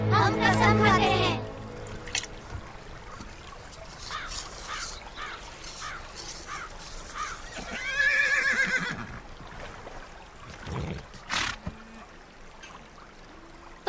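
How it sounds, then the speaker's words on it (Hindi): A small mare whinnies in an outdoor film scene, the neighs rising and falling over several seconds alongside crow-like bird calls, faint hoof clatter and bursts of speech. "उस छोटी सी घोड़ी को देख रहे हो ना?"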